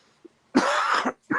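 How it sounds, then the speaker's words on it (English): A person coughs hard twice, close up: one long harsh cough followed by the start of another after a short pause. "I thought maybe you liked the ASMR of me coughing"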